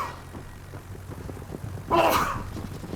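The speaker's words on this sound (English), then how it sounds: "Ooh, hold on, gotta sneeze." A single sneeze bursts out suddenly near the middle after a quiet stretch of low room noise, loud and close.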